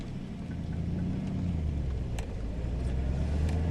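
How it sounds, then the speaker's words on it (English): A classic Chevrolet Malibu G-body with a 4-speed gearbox, its engine running at a high idle, a low, steady rumble heard from inside the car along with a few faint clicks. "The idle is still pretty high on this thing"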